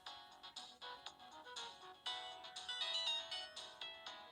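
A Galaxy S2 ringtone plays through the small speaker of a cheap Samsung E1200 phone, a bright, plucky melody of rapid repeated notes, fairly quiet and close, with no talking.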